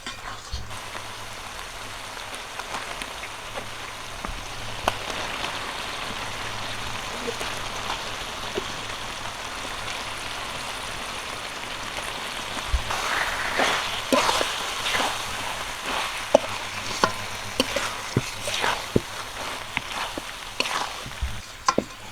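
Mutton pieces frying in a pan of cooked-down spice masala, a steady broadband sizzle with scattered crackles and pops that grow busier toward the end, close and continuous with no talking.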